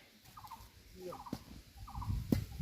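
A village bird repeats short chirping calls over a quiet rural background, a few separate bursts that grow slightly louder toward the end, along with some low rustling and knocks.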